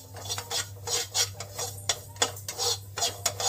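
Semolina stirred continuously in a pan while frying for a sweet, heard as a close, rhythmic series of spoon scrapes and light metallic clinks against the pan over a low steady hum, with no talking.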